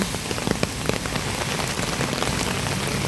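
Steady, dense rain pattering on a hard surface nearby, with scattered individual drops standing out, and no voices.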